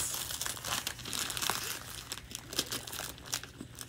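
Crinkling and tearing of paper as a heavily wrapped birthday present is opened, steady close rustles with sharper rips, fairly quiet and with no talk.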